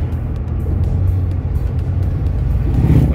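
A car drives along steadily, producing a continuous low road rumble and engine drone heard from inside the vehicle, loud and unbroken for a few seconds.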